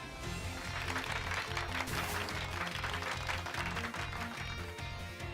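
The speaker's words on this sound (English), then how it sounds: "Give Pikachu a round of applause" Applause in the Pokemon Scarlet video game, a clapping crowd effect layered over game music with a steady beat, moderately loud and continuous.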